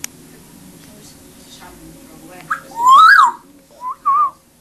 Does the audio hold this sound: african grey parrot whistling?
yes